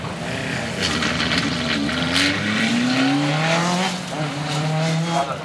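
Peugeot 306 Maxi kit rally cars racing at Race Retro, engines revving up and down in rising, falling sweeps with gear changes, loud and close, over a busy outdoor background.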